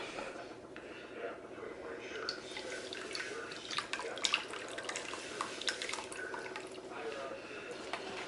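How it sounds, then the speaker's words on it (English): Pan-drippings mixture poured back into a roasting pan of smothered turkey wings, a steady liquid trickle with small drips and splashes, close and fairly faint throughout. "We're going to go ahead and pour this back into the pan."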